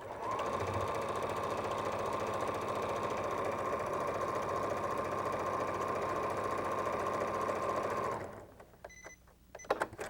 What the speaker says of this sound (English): After you take a few stitches, hold the 2 bottoms together to make sure they match.